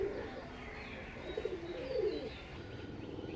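Oman blood line Teddy pigeons cooing softly, with a few low rolling coos over faint background hiss, quiet and close.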